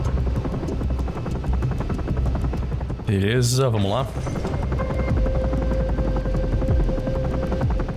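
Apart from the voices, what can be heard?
helicopter landing in Ravenfield video game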